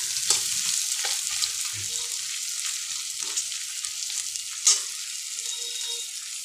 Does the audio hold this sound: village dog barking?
no